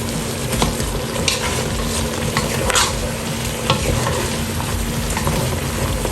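Meat frying in a pan with a loud, dense crackling sizzle that runs unbroken at close range, with a few stirring knocks and no talking.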